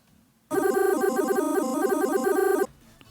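A sampler arpeggiator with its time knob turned down plays a quick, tightly stepped run of short synth notes, loud and continuous for about two seconds before stopping abruptly.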